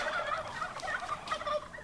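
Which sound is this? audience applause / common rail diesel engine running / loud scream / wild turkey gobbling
wild turkey gobbling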